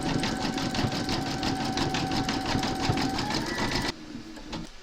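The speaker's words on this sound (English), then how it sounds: "Pop your hoop into your machine and stitch round number 12, and that's going to zigzag and then do the satin stitching over the top." A domestic embroidery machine stitches a zigzag outline and then dense satin stitching on hooped fabric, a fast, steady mechanical chatter that runs loud and continuous before dropping away near the end.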